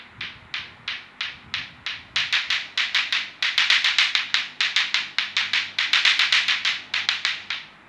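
A lato-lato clacker toy knocks in a scout clap rhythm, with sharp, loud, close clacks. They start as evenly spaced single beats, then speed into dense grouped bursts.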